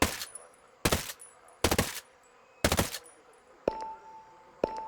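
Four sharp bursts of gunfire from Ghost Recon: Breakpoint, evenly spaced and loud against a quiet ambient background, followed by two fainter clicking weapon sounds toward the end.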